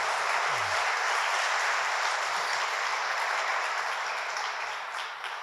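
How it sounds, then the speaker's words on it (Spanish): Church congregation applauding during a sermon, a broad, steady wash of many hands clapping together, sustained and fairly loud, tapering slightly at the end with no voices over it. "Dale un aplauso al Señor."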